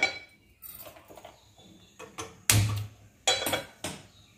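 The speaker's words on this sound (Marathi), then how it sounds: "म्हणून मी गॅसवर पॅन ठेवणार आहे" A metal pan being set down on a gas stove for roasting flour for Bournvita burfi, heard as several separate clanks and clinks of cookware, fairly close, with quiet gaps between them and no talking.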